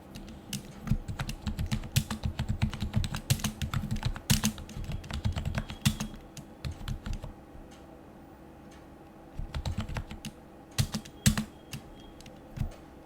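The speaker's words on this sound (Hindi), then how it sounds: "तो कीबोर्ड से टैब की प्रेस करेंगे।" Rapid clicking of typing on a computer keyboard with Tab presses, bursts of sharp keystrokes separated by brief pauses, close and clear with no talking.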